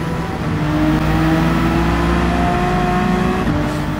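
A Honda NSX rally car in Gran Turismo 7 holds a steady, loud engine drone with a sustained whirring tone, revving evenly throughout with no voices.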